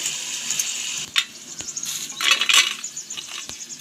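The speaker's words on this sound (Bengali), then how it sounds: "তোলার সময় আওয়াজটা শুনে নিশ্চয়ই বুঝতে পারছো কতটা মুচমুচে হয়েছে" Crispy fried golden-brown mango pieces for balachao clink and rattle against a pan and utensil as they are lifted out, in light, close, irregular taps and scrapes over faint frying hiss.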